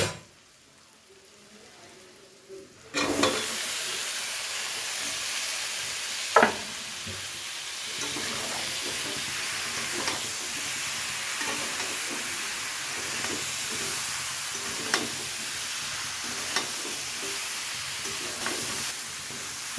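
Bottle gourd is stirred in a pan with prawns, onion and spices including Kashmiri chili powder. After a quiet start it breaks into steady sizzling frying, with scattered clinks and scrapes of stirring throughout.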